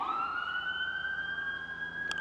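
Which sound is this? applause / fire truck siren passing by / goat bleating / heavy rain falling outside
fire truck siren passing by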